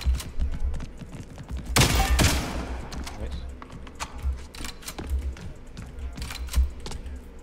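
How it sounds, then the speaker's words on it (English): Gunfire in a video game playtest, dominated by one loud close blast with a rattling tail near the start, among scattered clicks, footsteps and smaller shots while people talk. "This is a shotgun bro."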